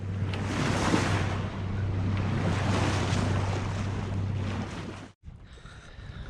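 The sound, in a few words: strong tidal current of water flowing past sailing boat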